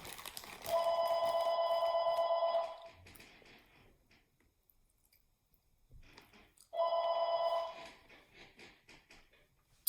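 A telephone bell rings in two long, loud electronic bursts with a quiet gap between them, and faint clicks and chewing sounds fill the pauses.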